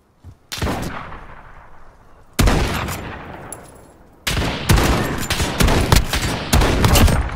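Gunfire from an inaccurate gun in Rust: three sharp, loud blasts followed by a rapid string of close shots, each ringing out briefly.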